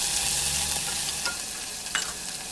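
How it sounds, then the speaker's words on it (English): Garlic and ginger sauté in a pan for a Korean-style sauce, producing a loud, even frying hiss up close. A couple of quick spatula scrapes cut through, one sharper near the end. "build the sauce, starting with sautéing a little bit of garlic and ginger until fragrant"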